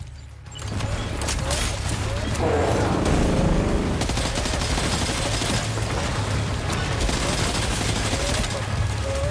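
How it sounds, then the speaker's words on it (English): Rapid bursts of machine pistol gunfire in the video game Death Stranding 2, sustained and loud through most of the scene with combat noise. A voice is heard briefly. "Machine pistol? That sounds fun. Hold on, I want to use that."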